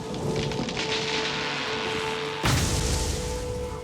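Steady heavy rain pours over a rainforest in a worsening storm, a dense continuous hiss, with a sudden loud crack of thunder partway through that leaves a deeper rumble under the downpour.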